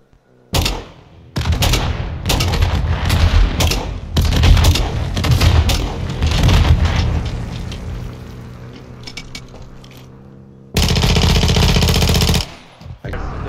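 Gunfire in Warzone 2.0 DMZ: loud bursts of rapid shots and booming reports come in clustered volleys, pausing briefly before another sustained burst near the end, with no speech over it.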